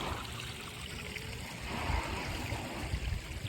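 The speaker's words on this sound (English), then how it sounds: "Got the waterfall." A garden pond waterfall trickles and splashes in a steady, close wash of running water that swells slightly midway and carries on unbroken, with no voices.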